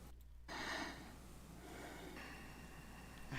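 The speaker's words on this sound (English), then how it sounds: "I heard breathing." Faint breathing over an open audio line before a live court session, a couple of soft noisy breaths with a sharp snort-like intake near the start, set against a steady low hum, with no talking.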